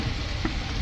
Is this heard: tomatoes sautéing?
yes